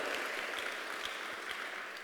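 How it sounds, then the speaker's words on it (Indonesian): Congregation applauding during a church sermon, a steady wash of many hands clapping at moderate distance, sustained evenly through the whole stretch without voices. "Siapa yang bersuka cita berikan tepuk tangan bagi Allah kita."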